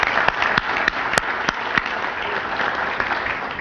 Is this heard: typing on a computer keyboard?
no